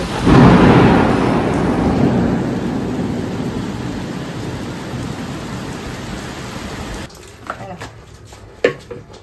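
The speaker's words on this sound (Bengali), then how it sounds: "ঝমঝমিয়ে বৃষ্টি, ঝমঝমিয়ে।" Heavy rain pours down loud and close with rolling thunder, a dense roar that swells early and holds steady before dropping away abruptly, leaving a few scattered knocks and clatters.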